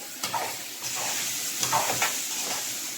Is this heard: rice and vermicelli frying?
yes